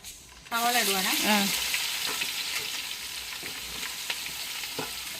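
Oil in which chicken was fried bursts into a loud sizzle as onions hit the pan, then settles into steady crackling frying with occasional stirring clinks; a brief voice at the start.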